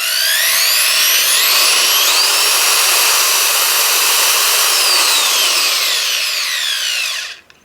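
A 3/8 inch electric right angle drill runs with a loud, high whine that climbs in pitch about two seconds in, holds steady, then winds down and stops near the end.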